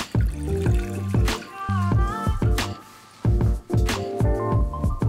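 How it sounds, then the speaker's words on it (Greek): Water pours into a small saucepan while making a syrup, a steady trickling stream with a few drips and pauses, close and fairly loud with no talking. "Σε μία μικρή κατσαρόλα αδειάζουμε το νερό,"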